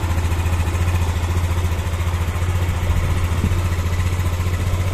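A Yamaha Xeon 125 motorcycle engine running after being taken apart and reassembled, a steady close idle with a low, even thrum and slight revving fluctuations, no talking.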